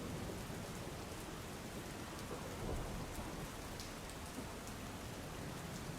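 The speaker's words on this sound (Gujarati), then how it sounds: "ઉપરવાસમાં ભારે વરસાદના પગલે ઓરસંગ નદીમાં પાણીની આવકમાં હાલ તો વધારો થતો પણ જોવા મળ્યો છે" Heavy rain over the flooding Orsang river near Chhota Udepur gives a dense, steady, low-level rush of falling water that holds evenly throughout, with no voices.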